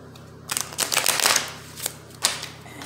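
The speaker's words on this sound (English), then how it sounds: "Shuffle these up" Tarot cards being shuffled by hand, a quick run of crisp riffling and flicking bursts that come in two clusters, close and fairly loud, with no talk over them.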